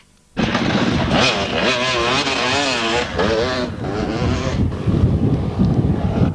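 A rally motorcycle fitted with a satellite tracking system passes close by on an off-road stage of the 2002 Cambrian Rally, its engine roaring loud and steady with a wavering pitch as it goes by amid wind noise.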